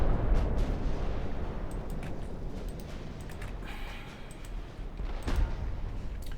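Naval artillery fire and shell hits in the warship game Ultimate Admiral Dreadnoughts, heard as a rolling rumble with a few sharp bursts near the start and end, fairly quiet overall.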